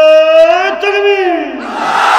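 A crowd at a religious sermon roars a loud, sustained takbir response in unison, the massed voices swelling then breaking into a rough wash of shouting.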